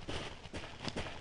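Footsteps on dirt from a Unity game's terrain footstep set, a quick run of soft, dull, gritty steps close up and loud, with no talk.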